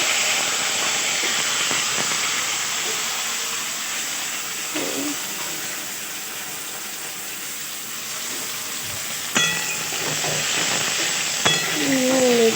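Potatoes fry in mustard oil in a wok with panch phoron and dried red chillies, giving a steady, close hissing sizzle with occasional stirring scrapes and sharper spits.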